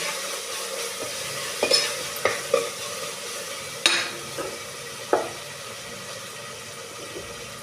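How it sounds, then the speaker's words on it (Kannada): Garlic and masala fry in oil for egg biryani, a soft sizzle under repeated stirring and scraping, with sharp clicks of a spoon against the pan; close by, no talking. "ಇದು ಚೆನ್ನಾಗಿ ಎಣ್ಣೆಯಲ್ಲಿ ಫ್ರೈ ಆಯಿತು."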